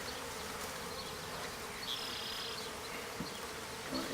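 Honeybees humming in an opened hive during a one-month inspection, a dense steady drone close by with a few louder passes of individual bees, no talk.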